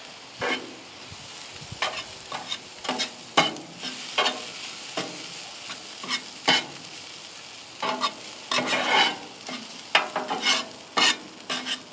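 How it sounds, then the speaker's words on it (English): Fried rice seasoned with soy sauce stirred on a Ninja FlexFlame grill, with a steady run of sharp utensil scrapes and clacks over a soft background sizzle, repeating irregularly throughout. "Just give that a good mix."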